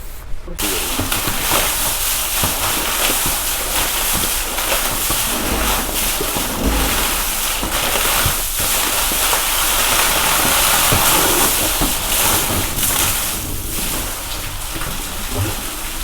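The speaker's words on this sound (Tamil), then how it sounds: "போர்லேருந்து வர்ற தண்ணி கிணத்துக்குள்ளே விழுகிற மாதிரி பண்ணியிருக்கிறாங்க கிணத்துக்குள்ளே விழுந்துட்டு இருக்குது" Water from a borewell pours continuously down into a well, a loud, steady rushing splash with hiss that holds for the whole stretch with no talk.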